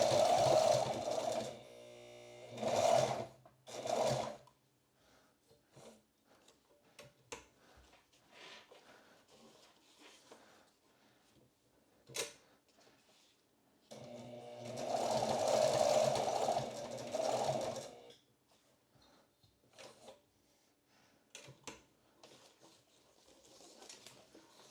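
Sewing machine stitching a box stitch on a two-point adjustable sling strap, heard in two loud bursts of a few seconds each near the start and again midway, with quieter handling noise between.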